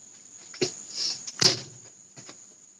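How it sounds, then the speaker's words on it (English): A door slams shut with a sharp, close bang, preceded by a softer knock or thud, in an otherwise quiet indoor room. "who slammed my door?"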